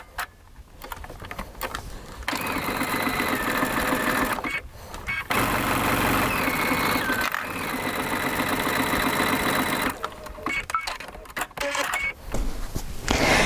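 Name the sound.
sewing machine stitching a curved seam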